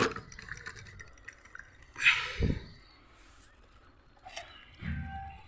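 Water is poured at the base of a potted bougainvillea after the soil is loosened: quiet, short splashing and trickling bursts at close range, separated by near-silence.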